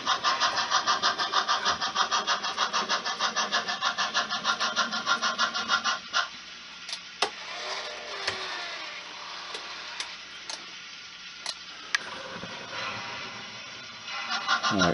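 A model PM42 locomotive runs over the reversing section of a model railway layout: a steady motor whir and rumble for about six seconds, then a quieter hum dotted with sharp clicks from the track.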